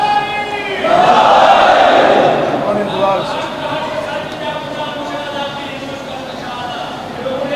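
A crowd at a majlis shouts a slogan in unison, a loud massed roar of voices swelling in the first seconds and then trailing into a softer murmur of chanting.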